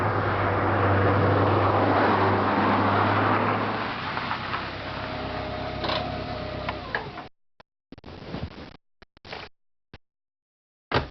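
A Lancia Delta Integrale's 2-litre four-cylinder engine runs with a steady low droning hum and rapid mechanical ticking. The sound softens partway through, then breaks into short, choppy bursts separated by sudden silences.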